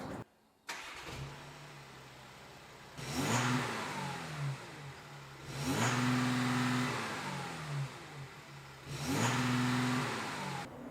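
A stationary Volkswagen Amarok 3.0 TDI V6 with its DPF removed and standard exhaust revs three times, each blip rising sharply then settling back to a low diesel idle between, loud and close with no voices.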